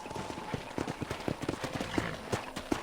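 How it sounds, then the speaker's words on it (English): Horse hooves clip-clop at a steady walking pace on a ranch in the video game Red Dead Redemption, a series of quick, close, fairly soft hoofbeats with faint ambient background. "let's see if you can still ride a horse."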